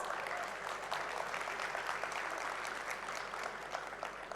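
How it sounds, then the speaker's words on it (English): An indoor audience at a learning forum applauds, a dense, steady clapping from many hands that holds at an even level from start to finish. "I want to hear a big round of applause."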